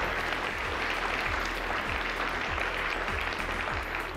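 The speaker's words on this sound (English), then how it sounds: "Let's have a round of applause." Studio audience on a tech quiz show gives sustained applause, a continuous even wash of clapping over a low steady background hum.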